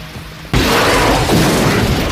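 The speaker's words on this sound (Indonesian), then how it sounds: "langsung semua orang berlarian sebelum akhirnya helikopter meledak" A helicopter explodes in a Rambo III action film scene: after a quieter half-second, a sudden loud boom erupts and rolls on as a dense, sustained blast roar filling the rest of the clip.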